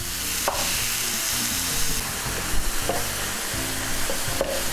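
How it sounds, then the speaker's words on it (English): Ground hamburger browns in a pan with a steady, loud sizzle and frying crackle, with occasional scrapes and clicks from stirring. "cook that till it's nice and brown"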